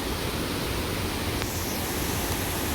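Rushing red floodwater after the first day of heavy monsoon rain in a village, a dense, constant roar of water filling the scene, close and loud with no breaks and no voices.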